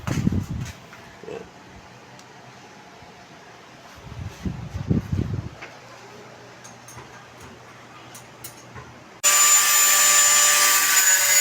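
A power tool cuts screws to length for Kawasaki ZX-6R motorcycle accessories. Short bursts of grinding and rattling come first, then a loud, steady, high whine sets in near the end.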